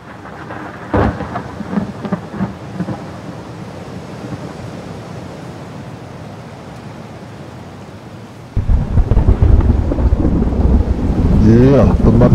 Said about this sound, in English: It's just a little rain, y'all.